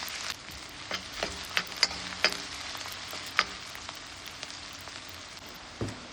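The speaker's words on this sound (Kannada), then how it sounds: "ಈಗ ಚಿಟ್ಕೊಂಡಿರೋ ಅಂಥ ಈರುಳ್ಳಿನ ಹಾಕಿ ಸ್ವಲ್ಪ ಹೊತ್ತು ಫ್ರೈ ಮಾಡೋಣ" Chopped onions frying in hot oil for chicken chops masala, a soft continuous sizzle broken by scattered sharp pops and spatula taps against the pan.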